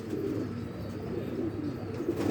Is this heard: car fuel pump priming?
no